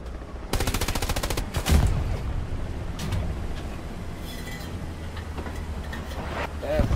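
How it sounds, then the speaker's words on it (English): Gunfire in the video game Hell Let Loose: a loud, rapid burst of machine-gun fire, then a heavy single shot and scattered further reports over a noisy battlefield background. "Just took a big fucking shot!"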